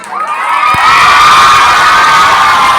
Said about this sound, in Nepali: एकचोटि ताली बजाउनुहोस्।